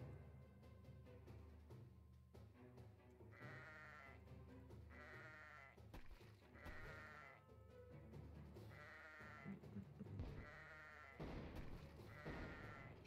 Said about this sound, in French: le mouton il a explosé